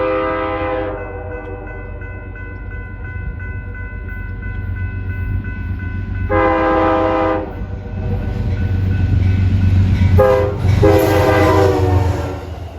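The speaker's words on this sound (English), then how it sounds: "there should be Amtrak 239 at 6:52 p.m. from New York Penn Station to Albany Rensselaer" Amtrak 239, a passenger train bound from New York Penn Station toward Albany-Rensselaer beside the Hudson River, rumbles past close by with a steady heavy roar, sounding its horn in several long blasts near the start, middle and end.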